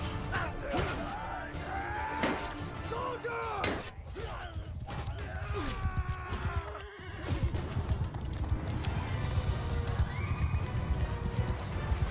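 Horses neigh and whinny amid galloping hooves and battle clatter during a cavalry clash in Mount & Blade 2: Bannerlord, a dense, continuous din with several overlapping calls.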